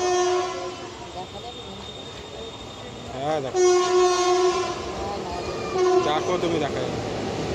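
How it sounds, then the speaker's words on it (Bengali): A through train passing a railway platform at Dainhat, its horn sounding in long sustained blasts that swell as it approaches, with a loud rumble of passing cars; a person speaks briefly over it. "1 নম্বর দিয়ে একটা থ্রু ট্রেন পাস করছে,"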